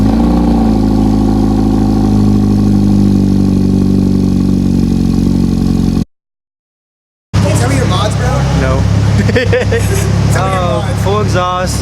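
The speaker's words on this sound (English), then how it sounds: "he wanted to see the Genesis start up, so you can start it up" Hyundai Genesis engine turning over and settling into a steady idle after sitting unstarted for about a month, a low continuous rumble with exhaust, downpipe and wastegate dump mods, dropping out briefly before people talk over the running engine.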